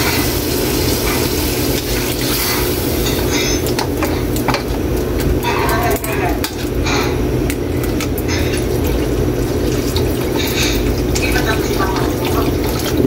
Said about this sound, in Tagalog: Pwede na tayo dito Kaylee maglagay ng tubig.